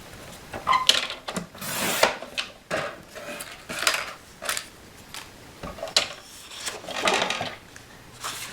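A paper trimmer slices an ID strip off a patterned scrapbook paper piece with blue stripes, butterflies and flowers, giving a series of close, sharp scraping cuts and clacks spread evenly through the stretch with no talking.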